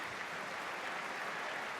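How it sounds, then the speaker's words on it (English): Steady broad applause from Sheffield United football fans at a Gillingham match, a distant even wash of clapping held as a minute-long tribute with no voices. "Sheffield United fans applauding here in the 58th minute, paying tribute to Peter Anderson"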